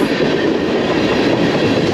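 A train runs along the rail line toward New York City, tracks that continue on to New York and Boston, near Buffalo: a steady, close, loud rumble with a clickety-clack of wheels, continuous and with no voices.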